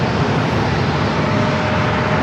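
A KLM Boeing 787-9 Dreamliner arriving from Amsterdam at San Diego airport, heard as a loud, steady jet engine roar with no voices.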